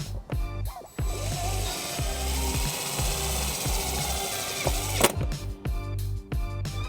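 A drill drives a 1/4 inch tap screw into the flat metal body of a 2006 Chrysler Town and Country, whirring loudly and steadily for several seconds with short bursts at the start and end.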